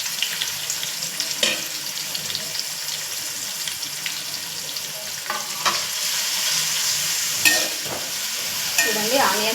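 Onions frying for biryani are stirred in a pan, a busy close sizzle with repeated spoon scrapes and clicks, no talking.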